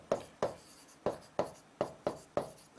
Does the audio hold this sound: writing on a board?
yes